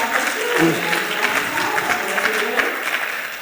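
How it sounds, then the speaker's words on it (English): A forum audience applauds pitch presenters, a dense steady patter of many hands, with a short spoken phrase briefly audible over it early on. "So when they come on stage, we give them a big applause."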